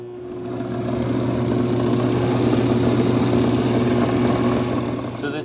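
Wood lathe driven by a treadmill motor running at slow speed, a steady motor hum with a strong tonal whine that swells up and then eases off, heard alone and close.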